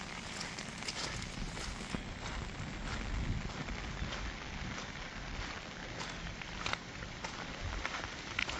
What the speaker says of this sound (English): Very wet today.